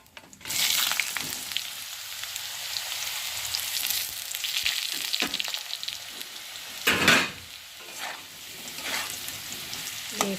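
Potatoes fry in tempered oil with bay leaf in a pan, a loud steady sizzle with bursts of crackle and a few stirring scrapes, close and without talk.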